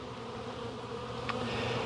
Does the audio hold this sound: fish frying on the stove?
no